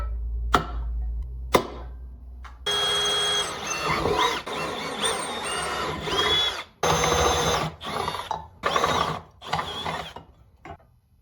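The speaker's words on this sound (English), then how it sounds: "One more small thing while I'm drilling holes here." A power drill bores holes for a homemade catch can on a turbo Honda Civic: two sharp clicks, then repeated bursts of close, whining drilling that start and stop over several seconds.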